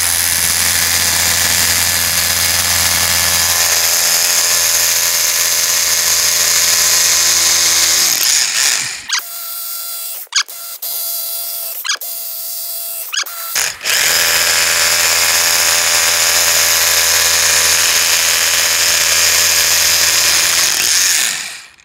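Hilti TE 6-A22 cordless rotary hammer drilling holes, a loud steady hammering drone that cuts out briefly for a few seconds of stuttering bursts, then resumes at full power without any talking.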